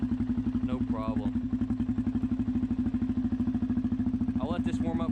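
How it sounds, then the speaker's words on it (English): A Raptor ATV engine, choke stuck on, idles steadily at close range to warm up, a fast even putter running throughout while a voice talks briefly over it. "I'll let this warm up for a minute and I'll take it for a ride"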